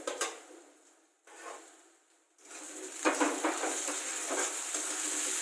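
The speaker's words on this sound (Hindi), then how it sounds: "इसमें हम अपना जिंजर गार्लिक को, जिसे मैंने क्रश करके रखा है, उसे डाल देंगे।" Crushed ginger and garlic drop into a pan of frying onions for a paneer dish, setting off loud close sizzling that swells, briefly fades twice, then settles into a steady hiss with some stirring clatter.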